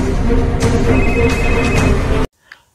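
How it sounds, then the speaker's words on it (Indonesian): A telephone ringtone rings in a film scene, loud and steady with repeating tonal pulses for about two seconds, then cuts off abruptly into near silence with a faint trailing sound. "Porus yang mendapatkan nomor telepon Divya langsung menelponnya"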